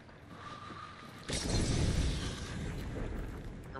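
A fire bomb bursts in the Beast Hunter video game. It is a sudden loud crackling whoosh partway through that settles into a sustained rumbling roar over quieter background hum.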